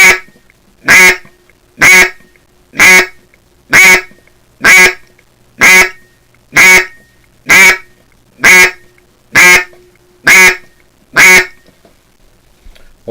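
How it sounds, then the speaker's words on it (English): A wooden duck call is blown in a steady series of about twelve identical quacks, evenly spaced roughly a second apart, loud and close with silence between each note. "you need to do a series of quacks, all sounding the same, starting with 3 and then moving on up to as many as 15 or so"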